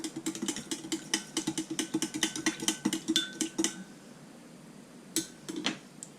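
Rapid metallic clinks and taps ring out as chicken tenders are stirred with a lemon marinade in a bowl, with irregular clatter that thins to a few scattered knocks.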